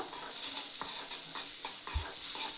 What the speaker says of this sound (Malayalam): എണ്ണ ഒഴിച്ച് സവാള, പച്ചമുളക്, വെളുത്തുള്ളി ഇട്ട് നന്നായിട്ട് വഴറ്റി കൊടുക്കുക